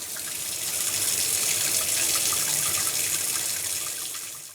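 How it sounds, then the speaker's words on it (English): Water gushes steadily from a faucet to purge air from the line after a water softener installation, a continuous close hissing splash that swells slightly and then eases near the end. "So now after we ran the water through the faucet, get all the air out of the system"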